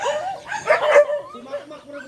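A dog on a rural Filipino province farm gives a quick yip and a bark, then some softer whimpering, close by and fairly loud, with a voice faintly mixed in.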